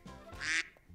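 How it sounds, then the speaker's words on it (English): A single short duck quack, close and fairly clear, used as a sound effect in a children's picture-book read-aloud, with no voice over it. "I see a yellow duck looking at me."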